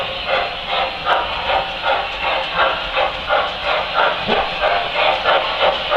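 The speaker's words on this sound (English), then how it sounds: "The steam chuffing sound obviously picks up as you increase speed on the train." Steady rhythmic chuffing of a Standard Gauge model steam train, Pennsylvania PRR 384 freight set, with a hissing edge, fast regular beats continuing throughout, close and fairly loud.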